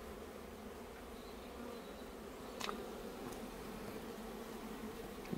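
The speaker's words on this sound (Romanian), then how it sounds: "Albinele îl caută." Bees buzz around a sourdough starter in a steady, fairly soft hum that swells slightly partway through, with no voices.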